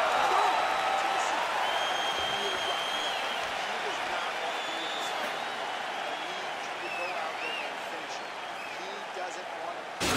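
A virtual arena crowd in the UFC 4 video game cheers and roars between rounds of a heavyweight fight, a loud, steady wash of noise that slowly fades, with a few sharp peaks and scattered whistles.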